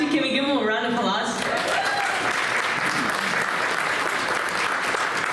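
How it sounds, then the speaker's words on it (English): An audience at a boxing writers' awards dinner applauds the speaker's parents: a voice talks briefly at the start, then steady, dense clapping from a large crowd fills the room and holds loud to the end. "can we give them a round of applause?"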